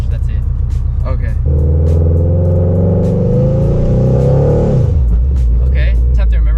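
Engine of a manual transmission car while a learner shifts into second gear, a loud close rumble that steadies and rises in pitch then drops off, under continuous talking inside the cabin.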